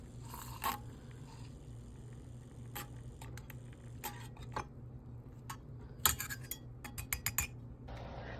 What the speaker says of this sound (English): let's go in with a little milk, and let's get this stirred